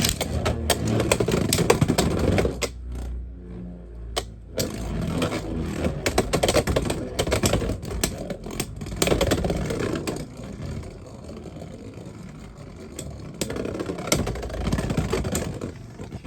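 Two Beyblade X spinning tops, Driger S among them, clash and grind across a plastic stadium, a steady loud whirring scrape broken by sharp clacking hits, with a brief lull partway through before the battle noise resumes.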